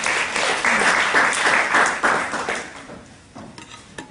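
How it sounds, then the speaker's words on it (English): An audience at an Islamic awareness talk claps and applauds loudly for about two seconds, then the clapping thins out and fades to a few scattered claps. "Round of applause."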